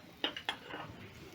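Chapatis being flipped with a spatula in a pan, two quick metallic clinks of the spatula against the pan, close and fairly faint, followed by soft cooking noise.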